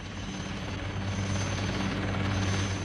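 Military helicopter engine and rotor drone, steady and fairly loud throughout, with a constant low throbbing hum and broad roar, no talk.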